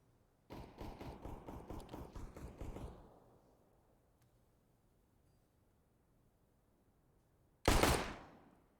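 Rapid bursts of gunfire in Counter-Strike on the Dust2 map, a sustained rattling volley for a few seconds, then quiet, then a single loud, close shot with a ringing tail.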